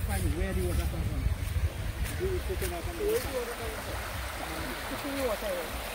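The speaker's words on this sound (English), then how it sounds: "So now we're gonna go take a look at the river." The Caura River in Trinidad rushes past in a steady, close murmur of flowing water, continuous throughout, while voices chatter over it.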